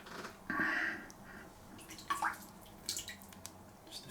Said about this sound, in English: Just a few drops of water.